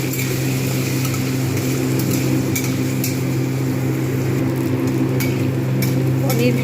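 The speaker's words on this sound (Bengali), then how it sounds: "প্রথমে আমি পনিরটাকে ভালো করে ভেজে নেবো লালচে করে" Paneer fries in soybean oil in a wok, a continuous loud sizzle over a steady low hum, with occasional faint stirring clicks.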